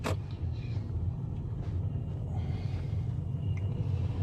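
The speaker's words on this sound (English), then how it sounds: "So I'm gonna put the car in drive" A car pulls away from a stop near a driving test centre, its engine a steady low rumble that holds evenly throughout, close by and with no talking.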